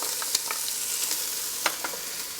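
Onions and green onions fry in a hot pan for rice soup, giving a steady close sizzle with occasional sharper crackles and pops.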